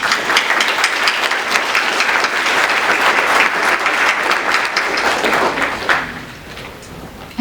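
A room full of people at an annual recognition event applauds the John Edward Fowler Memorial Fund. The loud, thick clapping holds steady for about six seconds, then quickly thins out and dies away.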